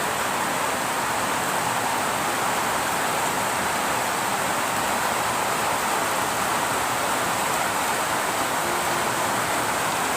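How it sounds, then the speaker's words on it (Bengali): Steady rain pours down on a wet rural yard where water has pooled on the ground, a dense, even hiss that fills the whole stretch without break and with no voices over it. "আবার বৃষ্টি শুরু হয়ে গেছে"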